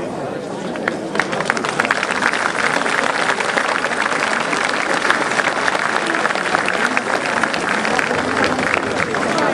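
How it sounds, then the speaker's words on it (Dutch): Sustained applause from an audience at a Dutch carnival society event, dense steady clapping with crowd babble and cheering mixed in throughout, loud and continuous. "ik ga ervan uit dat dit applaus niet voor mij was"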